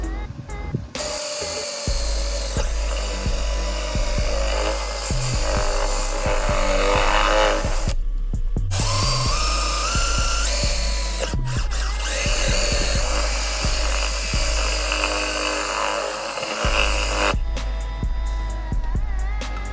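A power cutter plunge-cuts an exhaust opening in a jet ski hull with a loud, high whine, grinding in long stretches broken by short pauses and rough chattering bursts, close by with no talking.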